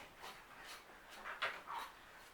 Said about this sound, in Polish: W tle możecie słyszeć, jak nasze szczeniaczki dokazują na dworze